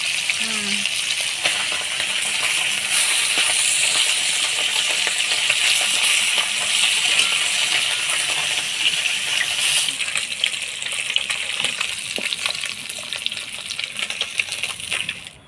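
Small fish frying in a pan for a Bengali chorchori, a loud continuous hiss and crackle of hot oil that keeps up steadily and fades slightly toward the end, with clinks from stirring.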